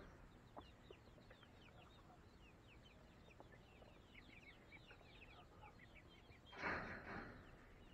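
Chickens cluck softly and steadily in a backyard coop, many short calls overlapping at a distance, with one louder, closer squawk near the end.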